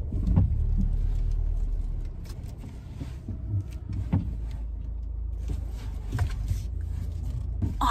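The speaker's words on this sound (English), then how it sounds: "now she's gonna have to very much concentrate while she parks it." A car being parked, with a low steady engine and road rumble under scattered interior clicks and knocks, close and fairly quiet, with no talk.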